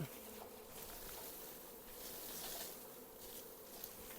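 A swarm of honey bees being captured buzzes as a dense, continuous hum, faint and fairly distant, steady throughout with slight swells and no talking.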